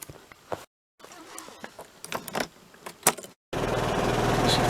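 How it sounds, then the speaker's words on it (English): A motorcycle that has been sitting for a while fires up on the first try: a few quiet clicks and handling noises, a brief silence, then the engine catches suddenly and runs loud and steady. "Fired up first pop."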